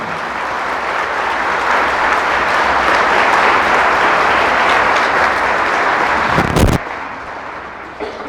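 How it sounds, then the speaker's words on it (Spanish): A church congregation applauds loudly and steadily for several seconds, the dense clapping holding even before cutting off sharply near the end. "Fuertes aplausos al Señor."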